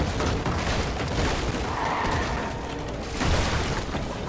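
A rocket launcher blast in Fortnite lands as a dense, heavy boom. Sustained rumbling fills the whole stretch, with a second surge near the end.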